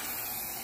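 A short, steady hiss of dry chain lube sprayed from an aerosol can onto valves, close and alone.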